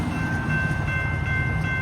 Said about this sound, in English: We got a train coming now.